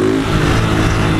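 A blue 2023 Honda Fan 160 motorcycle running without its air filter, with a tin-can exhaust, revs loudly and close up in a short, continuous burst of raw engine roar.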